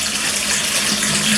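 Hot water tap fitted with a TMV temperature valve running, a steady close gush of water pouring without pause, no voices.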